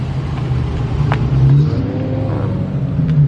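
A supercharged Chevrolet El Camino with a Whipple blower revs loudly at a San Francisco Ocean Beach car meet, a deep steady engine rumble swelling into throttle blips, heard alone without talk.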